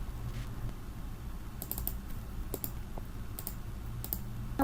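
A computer keyboard sits in a quiet room, with a few sparse, crisp key presses and clicks spaced a second or so apart over low background hum.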